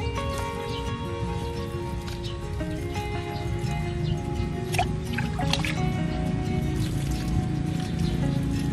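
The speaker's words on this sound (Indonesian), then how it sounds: "Nah, kita siram secukupnya." Water poured onto seedling medium in a small polybag, for planting turmeric: soft, close dripping and trickling over steady background music.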